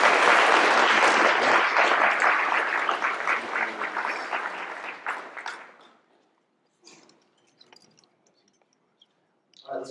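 A conference audience applauds distinguished paper award winners: loud, dense clapping from many hands that thins out after a few seconds and stops, followed by near silence with a few faint scattered sounds.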